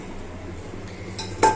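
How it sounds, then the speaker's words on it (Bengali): A hot iron kadai shifted aside on the stove, a quiet metallic scrape building to a sharp clink of pan against metal at the end, heard alone. "এই কড়াইটাকে সরিয়ে দিয়ে নিই"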